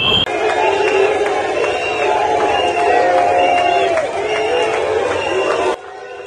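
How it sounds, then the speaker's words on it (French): A large crowd cheering and shouting in a continuous roar, loud and sustained, with applause buried in the noise before it cuts off abruptly. "C'est sous les applaudissements effrénés, accompagnés des cris de joie"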